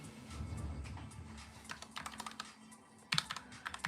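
Fingers type on a computer keyboard, heard quietly and close by. The keystrokes come in quick, uneven bursts of clicks with brief pauses between them.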